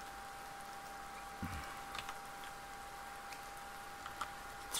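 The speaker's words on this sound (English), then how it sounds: "It's raining very hard." Heavy rain in the Minecraft Karmaland mod game, a steady soft hiss of falling rain with a constant tonal hum beneath and occasional faint clicks and taps, no speech.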